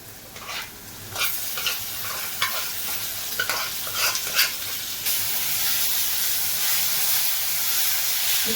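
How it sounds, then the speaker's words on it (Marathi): Shrimp hit a pan of softened, well-sautéed onions and sizzle steadily, with a few scraping stirs early on before a louder, continuous frying hiss takes over, close and with no voices. "आता आपण त्याच्यावरती ही कोलंबी टाकूया."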